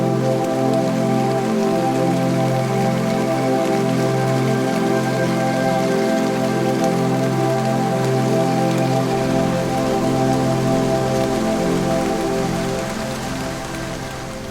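Heavy rain in Tadoba, India drumming steadily on a surface, dense and continuous, with a low engine-like hum underneath and no voices.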